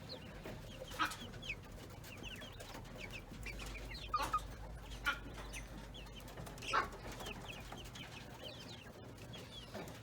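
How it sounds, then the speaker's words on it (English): Silkie chickens, young chicks and a rooster, cluck and chirp in short scattered calls over a low steady background hum, moderately close and fairly quiet. "These are the chicks,"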